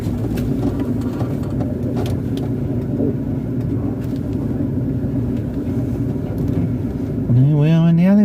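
Car driving on roads in Kent, a steady interior road rumble with engine hum and passing noise throughout, ending in a rising whine as the engine revs near the close.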